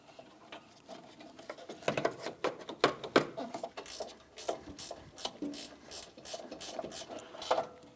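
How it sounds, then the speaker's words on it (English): Ratchet tightening an AC line mounting bolt on a 2007-2014 Ford Edge 3.5L, a fairly quiet, close series of quick clicks in short irregular bursts. "we'll start in the mounting bolt, and then I'm going to torque it to 80 inch-pounds"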